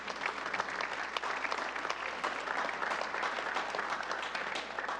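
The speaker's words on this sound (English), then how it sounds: "if we could give those people a nice round of applause" Audience applause for the band boosters at a high school band event, a steady, moderately distant wash of many hands clapping, even and sustained with occasional sharper claps.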